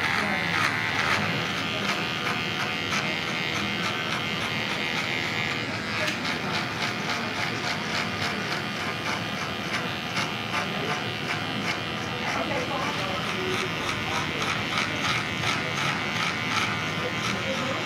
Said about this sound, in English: I've got this clipper charging pretty much all weekend, and it sounds like it's about to die